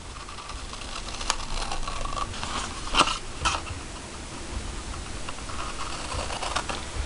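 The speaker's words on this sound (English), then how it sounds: "I'm going to take my scissors and I'm just going to follow the score lines" Crisp paper being cut with scissors along score lines, a steady run of small snips and rustles with a few sharper clicks, close by and fairly quiet.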